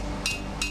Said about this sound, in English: the hammer gives it shape